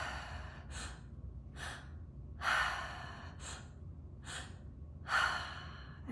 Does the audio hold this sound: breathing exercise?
yes